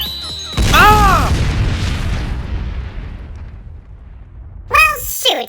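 A cartoon magic spell (Ruby's Jewel Flash) backfires into a loud booming blast that erupts suddenly and rumbles away over a few seconds, with a short cry ringing out on top and further vocal yelps near the end.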